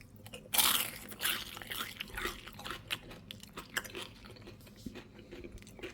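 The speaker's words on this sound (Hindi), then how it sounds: "कुरकुरी भिंडी, माशाल्लाह। देखें अब ज़रा इसकी आवाज़ सुने कैसी मज़े की।" Crispy fried okra (kurkuri bhindi) being bitten and chewed close up, starting with one sharp loud crunch, then a run of smaller crackling crunches and moist chewing that fade gradually, with no talking.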